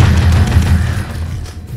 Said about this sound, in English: You must explode their corpses.